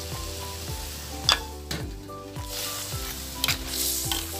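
Crab stir-fried with curry powder in a home-style pan, a close, busy sizzle broken by several scraping stirs and clatters, with faint steady tones behind it.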